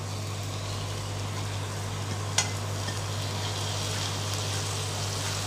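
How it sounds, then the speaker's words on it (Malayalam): Beef frying in a separate pan for a tender coconut beef curry, a continuous even sizzle with a low steady hum beneath and one brief clink partway through. "ഇനി നമ്മൾ ബീഫ് അങ്ങോട്ട് ഇടാൻ പോവാണ്."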